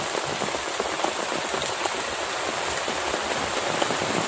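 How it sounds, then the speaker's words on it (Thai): Steady rain falling on a surface during a storm, a dense continuous patter of drops with no voices, even and fairly close throughout. "ฝนมันตก"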